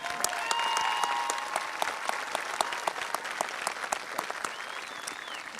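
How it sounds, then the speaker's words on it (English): Sustained audience applause fills a college commencement hall, a dense even wash of clapping from a large crowd that holds steady throughout with a few faint whistles on top. "Let's give them a round of applause."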